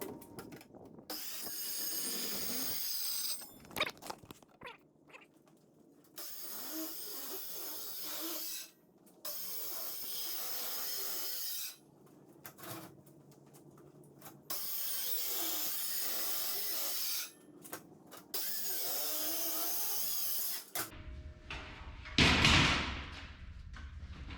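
A heavy-duty cutter built for half-inch steel plate grinds through aluminum sheet in loud, harsh bursts separated by short pauses, ending with a clatter and thump.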